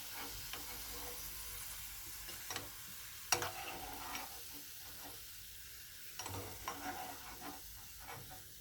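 Raisins fry in ghee for Tirupati laddu, a faint steady sizzle with occasional light taps and scrapes of a spoon against the pan.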